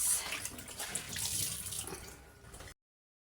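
Tap water runs steadily into a sink during dishwashing, a continuous close splashing hiss for under three seconds before it cuts off.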